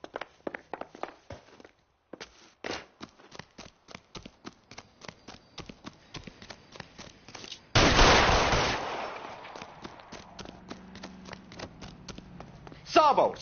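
Shots crack out in the 1940s Los Angeles detective game L.A. Noire: a rapid series of sharp, evenly spaced reports, a heavy loud burst partway through, then more scattered shots, with characters talking in between.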